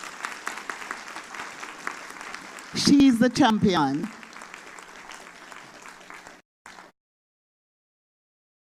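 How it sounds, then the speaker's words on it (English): A crowd at Louie Rankin's funeral service applauds for his mother, a steady broadband clapping that swells loudly mid-way then fades out, with a voice speaking over it. "I'm going to ask you all to give his mom a big round of applause."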